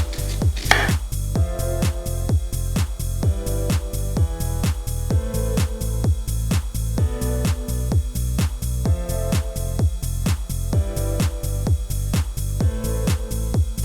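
A knife chops steadily through apples on a cutting board, a long run of even, crisp strikes repeating at a brisk regular pace, close and clear with no talking.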